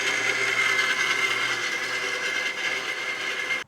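A saw fitted with a new Lennox blade cuts through metal stock for the upright of a fuel tank frame, using cutting fluid: a loud, steady whine that grinds on without a break and then stops abruptly at the end.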